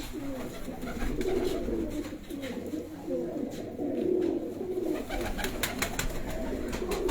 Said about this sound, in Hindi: सियालकोटी कबूतर जो हैं बड़े कदावर मोतियों वाले जो कबूतर हैं वो मैं देख रहा हूँ